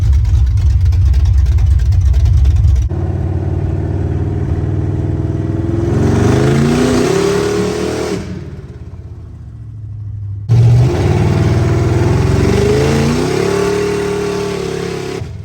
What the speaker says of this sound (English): We're in the Camaro and we're gonna go do some test hits at a very hot spot.